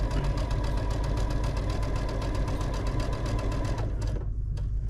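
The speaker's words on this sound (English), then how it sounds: "I want to make sure that I sew that seam down so it doesn't flip up" A sewing machine stitches a quilt seam with a close, rapid, even mechanical whir and steady needle clatter. It runs continuously for about four seconds, then stops, and a couple of faint clicks follow.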